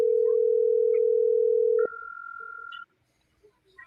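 A telephone line tone sounds as a caller connects, starting with a steady loud tone that switches to a second, higher tone and then cuts off, leaving near silence with faint noises.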